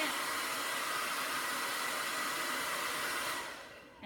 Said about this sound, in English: come down, blow dry it, let it set for just a second